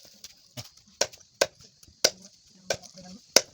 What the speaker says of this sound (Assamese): ইয়াতে মাংসটো কাটি লোৱা হৈছে